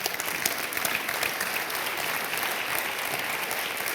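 Dense, even applause from an audience at a mentoring ceremony in France as a director general is introduced, steady and sustained across the whole stretch with no talk over it.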